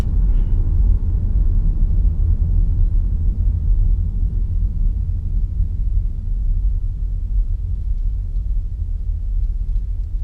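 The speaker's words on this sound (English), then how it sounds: "no regenerative braking, so it will literally just coast like we are now" Inside a UK-spec First Edition Kia e-Niro electric car coasting with no regenerative braking, a steady low road and tyre rumble continues evenly without engine sound.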